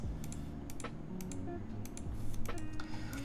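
Typing on a Bias TKL mechanical keyboard build, a steady run of close, crisp keystroke clacks with irregular rhythm and no voices.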